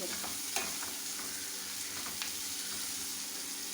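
Chopped onion sautés steadily in a pan for a prawn roast, a constant close sizzle with a few light stirring taps scattered through it.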